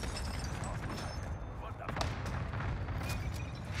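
Cluster strike explosions from Call of Duty Warzone rumble as a dense, continuous barrage of booms and cracks near a rooftop, with someone talking over the din.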